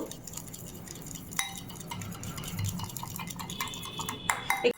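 A spoon stirs Caesar salad dressing with black pepper and red chili sauce in a bowl, giving soft scraping and clinking taps that grow into a few sharper knocks near the end.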